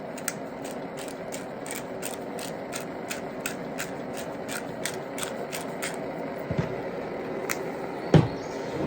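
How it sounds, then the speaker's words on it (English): A pepper grinder cranks out pepper over gravy at a camp stove, making a rapid, evenly spaced series of close ratcheting clicks for several seconds, no voices. "I'm just going to take a pepper grinder here and grind some pepper over top of that"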